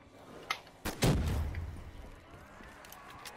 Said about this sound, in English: let's give him a blast of the cannon